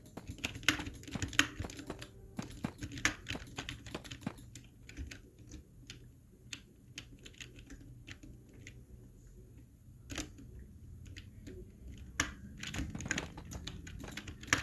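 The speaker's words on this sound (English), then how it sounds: "accent typing is hard on this keyboard now" Rapid, irregular clicking of keys on a computer keyboard, close and fairly loud, continuing steadily with brief pauses and no talking.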